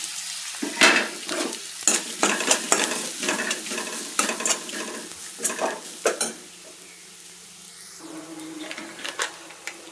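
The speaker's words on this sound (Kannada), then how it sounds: "ಹಸಿಮೆಣಸಿನ್ಕಾಯಿ, ರುಬ್ಬಿರುವಂಥ ಮಸಾಲೆ ಹಾಕ್ತಾಯಿದ್ದೀನಿ" Green chillies, curry leaves and ground masala fry in a pan for pongal, with a steady sizzle under repeated scraping stirs, close up and without talk.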